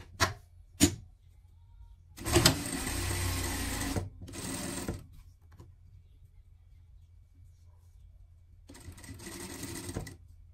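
A sewing machine stitches a small pocket onto a pet dress, with two short ticks, then a loud burst of about two seconds, a brief second run, and a final burst near the end, with quiet pauses between.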